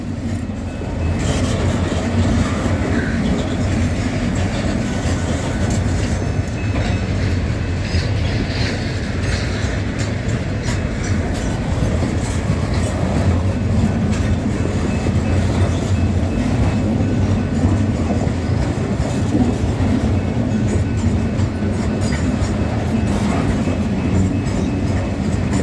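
A freight train rolls down Baxter Hill in a long, steady rumble of wheels and cars, with rhythmic rail clatter and occasional faint squeal, staying close and loud from start to finish with no talking.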